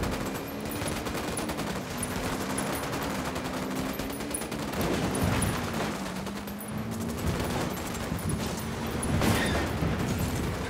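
Sustained automatic gunfire in the video game Ghost Recon Wildlands, dense overlapping bursts from several weapons rattling continuously at close range over a low droning rumble.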